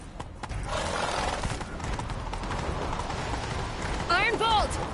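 Horses setting off in pursuit, hoofbeats and whinnies blending into a steady rush of movement, with a brief squeal of a horse near the end and voices faintly underneath.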